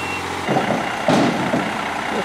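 A big truck reverses at a tree removal, its engine rumbling steadily with a faint steady reversing tone at first, then louder bursts of machinery noise.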